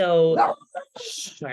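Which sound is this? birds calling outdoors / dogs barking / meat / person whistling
dogs barking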